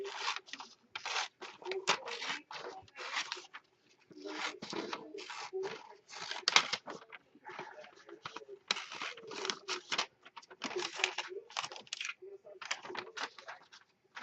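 Scissors cut through Frosty Wishes wrapping paper in repeated crisp snips and rustles, steady bursts with short pauses, close by in a quiet room.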